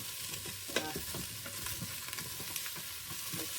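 Cauliflower is stirred into cumin frying in an Instant Pot, giving a close, crackling sizzle broken by scraping and clinking stirring strokes.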